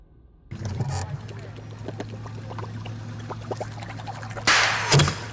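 Several sharp gunshots crack near a fishing boat out on the water, sounding as scattered impacts over a steady engine hum, with a louder burst of noise and a splash-like hit toward the end.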